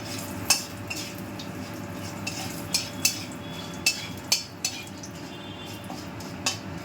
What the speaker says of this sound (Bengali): এই তেলটার মধ্যে আমি এবার 2 চামচ 5 ফোড়ন দিলাম আর দিলাম একটা তেজপাতা